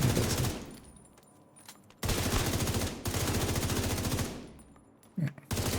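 Video game gunfire comes in long, loud, sustained automatic bursts, broken by short pauses and a brief sputter near the end, close and without talk.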